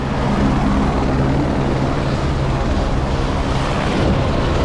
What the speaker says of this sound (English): Look at the helicopter!